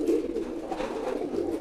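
A male pigeon coos loudly during courtship driving, a close, low throaty burble that rolls on without pause.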